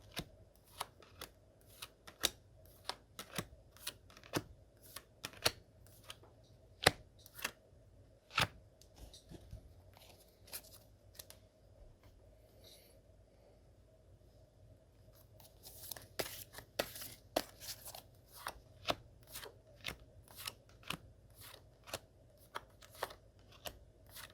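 Tarot cards shuffled and drawn by hand, a long run of crisp flicks and riffles, close and fairly quiet, pausing briefly midway before a dense burst of rapid snaps resumes.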